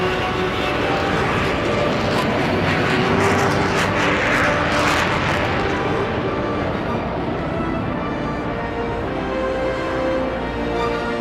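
A loud, steady jet engine roar from the supersonic Concorde 002 taking off at full power with afterburner on the runway, a broad rumbling wash of noise that stays constant throughout, no talking.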